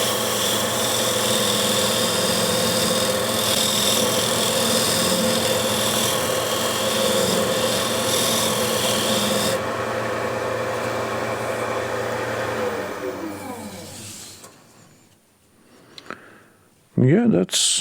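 A hand-made scraper, ground from an angle-grinder blade, works the outside of a wet timber bowl on a woodturning lathe, a steady loud drone that winds down toward the end, followed by a few sharp knocks.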